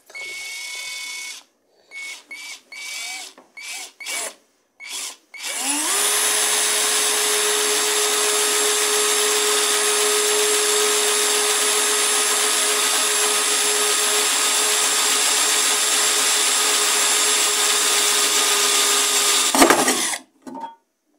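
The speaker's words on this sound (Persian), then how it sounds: "خیلی راحت سوراخش کرد." An OK K1219 cordless drill gives several short trigger bursts, then runs continuously at a steady high-pitched whine while boring a hole for about fifteen seconds, ending with a brief louder burst as the bit breaks through before stopping.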